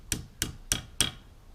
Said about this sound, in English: Get a nice heavy hammer and just